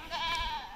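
A goat at the Purbasha Agro livestock farm, part of a Qurbani-season batch being delivered, lets out one loud, close, wavering bleat that lasts under a second.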